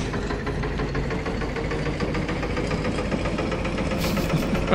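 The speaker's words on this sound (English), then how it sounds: "I love when you switch from reverse to forward or from forward to reverse, just how the engine goes crazy." Boat engine in an open-sea fishing game rumbling and knocking steadily as it shifts between reverse and forward, a loud, continuous low drone with rapid pulsing throughout.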